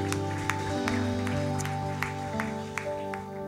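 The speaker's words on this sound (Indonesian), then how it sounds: "Ayo kita tepuk tangan tuh Yesus." A church congregation claps in a steady rhythm alongside sustained worship music, the sharp hand claps fairly faint against the held instrumental tones.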